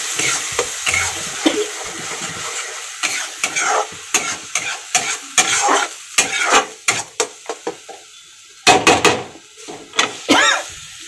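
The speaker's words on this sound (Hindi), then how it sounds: "ये फ्राई जब तक हो रहा है हल्का हल्का सा मतलब धीमी आंच में इसको अच्छे से फ्राई करना है" Ground masala with garam masala and chilli frying in a pan over a low flame, a steady sizzle broken by many sharp stirring scrapes and knocks of the spoon against the pan, close and fairly loud, with no talking.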